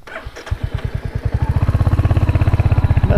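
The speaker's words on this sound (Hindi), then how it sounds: "बस ये ब्रिज में बाइक चलाना था इसीलिए आए" Motorcycle engine starts up and chugs with a fast, steady beat that grows louder and more regular, close by, as the bike rides onto a suspension bridge between Nepal and India.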